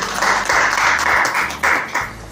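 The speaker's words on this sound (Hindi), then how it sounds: "उनके लिए हम ताली बजाएंगे" An audience claps for guests at a cancer meditation event in bursts of broadband applause, several swells of clapping across the clip, fairly close and loud, with faint talk beneath.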